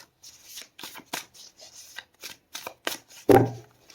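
A deck of tarot cards is shuffled close by, a run of quick riffling flutters and soft slaps that ends in one louder thump as the deck is squared, and nobody speaks.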